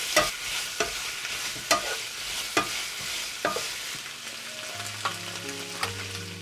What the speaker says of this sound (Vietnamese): Mình xào nhanh tay với lửa vừa.